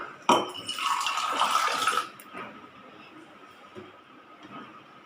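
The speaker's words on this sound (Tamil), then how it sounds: "ஒரு டம்ளர் தண்ணி எடுத்துக்கலாம்." Water is poured into a tumbler in a home kitchen while making turmeric juice, a close splashing pour lasting under two seconds that then stops, followed by quiet room sounds and a voice talking.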